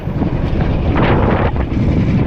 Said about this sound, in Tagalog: Medyo mahangin na rin.